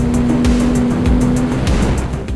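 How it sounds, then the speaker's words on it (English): Aprilia RS 457 motorcycle with a 270-degree crank engine, exhaust note on track: a loud, steady, close engine drone that runs continuously throughout. "It's really intoxicating, the exhaust note, the way the engine feels."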